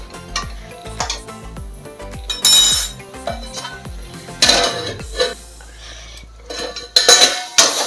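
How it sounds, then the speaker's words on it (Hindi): A metal spoon clanks and scrapes against an Indian kadhai as lentils are roasted with ground fenugreek masala for colocasia-leaf curry, giving close, irregular bursts of clinks and scraping with brief pauses and no talking. "दालों को भूनेंगे एक साथ।"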